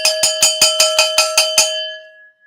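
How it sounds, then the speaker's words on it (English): A bright metallic gong-like tone is struck eight times in quick, even succession, each hit ringing out with a sustained shimmer that fades away alone after the last strike. "let's give them some gong"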